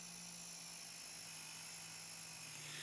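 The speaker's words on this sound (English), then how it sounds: "Push the spade bit holder forward until the flat of the bit contacts the wheel and starts grinding." A Drill Doctor DDSB grinding wheel sharpens a spade bit with a faint, steady high-pitched whine and a continuous motor hum throughout.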